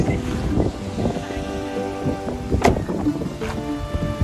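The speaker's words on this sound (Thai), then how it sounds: "ลมแรงมากนะครับลมแรงมาก" Gusty storm wind roars steadily against the microphone at Phu Thap Boek, Thailand, with a whooshing surge near the middle and a low rumble underneath.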